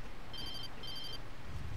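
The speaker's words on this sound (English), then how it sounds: "I got a phone call now." Phone ringing in the video game Alan Wake, two short electronic trill bursts of rings, fairly faint over a low rumbling game ambience, with no talking.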